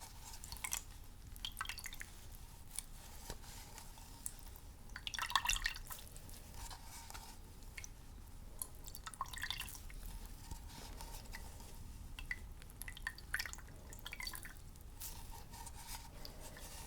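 Clean, cool water drips and squishes from a cloth in a quiet medic roleplay setting. Soft, intimate, close drips and wet squelches come in scattered bursts over a faint hiss, with no voice.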